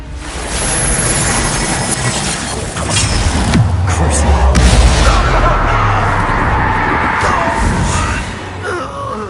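A Confringo blasting spell explodes during a Hogwarts Legacy battle: a loud booming burst swells in the middle with deep rumble and crackling debris, amid gasps and shouting voices, then fades out.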